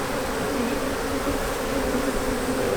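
Honeybees at a strong hive in winter hum in a dense, continuous buzz, close and steady throughout with no talking.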